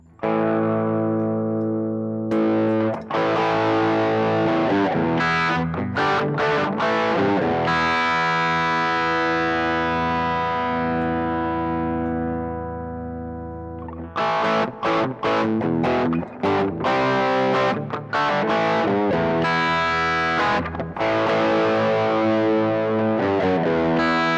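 A Les Paul electric guitar roars with heavy distortion, choppy palm-muted riffing and stabbed chords, then a long ringing chord that decays before the aggressive riffing resumes; loud and close, with no talking.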